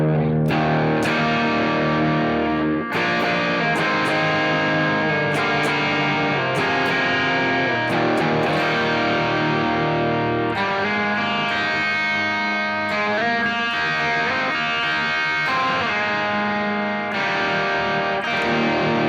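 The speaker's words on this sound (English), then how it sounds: "Boost from Limelight and distortion or overdrive from the DRV." Electric guitar played through a Citadel DRV distortion pedal with a Limelight boost in front, giving a thick, saturated tone; loud chords and sustained riffs ring continuously for about nineteen seconds with no talking.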